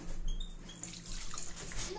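Milk pours into a bowl of flour and oil while pizza dough is being made, a close, steady liquid stream lasting about two seconds.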